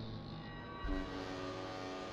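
A warship horn in the naval game World of Warships blares as a steady, loud tonal blast with a brief swell midway, heard alone and continuous throughout.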